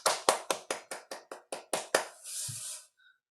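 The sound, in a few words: clapping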